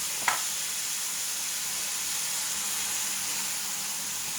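Yakisoba noodles stir-fried in Japanese sauce with a splash of water sizzle steadily in a hot pan, a brief sharp hiss near the start settling into a constant, close frying crackle with no talking.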